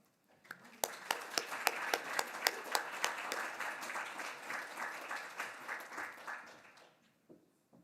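A conference audience applauds to welcome keynote speaker Adam at a student leadership event, a full burst of clapping that swells quickly, stays steady, then tapers off, with a few sharp individual claps standing out.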